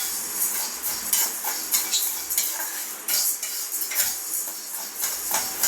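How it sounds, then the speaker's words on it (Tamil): Urad dal and moong dal dry roasting together in a pan, a steady dry rattle of lentils punctuated by repeated clinks and scrapes of a spatula against the metal, close and clear with no talking. "உளுந்து பாசிப்பருப்பு நம்ம ஒன்றா வந்து வறுத்துக்கிடலாம்"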